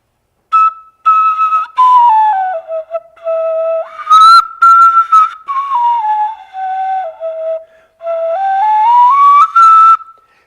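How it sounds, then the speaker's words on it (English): A Pomo flute, a near-diatonic straight cylindrical Native American flute, played alone up close in a clear breathy melody of held and stepping notes with short pauses between phrases. "So this is the pomo flute, and I'll try to make some noise for you."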